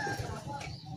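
A racing pigeon coos softly at a loft in Padre Garcia, Batangas, a low murmuring call under nearby talk and background noise.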